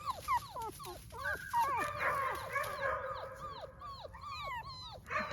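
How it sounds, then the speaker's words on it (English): Several dogs bark and yip on a porch in quick overlapping bursts, some higher and whiny, at moderate distance, with faint background noise and a voice briefly present. "Dogs on the porch are barking."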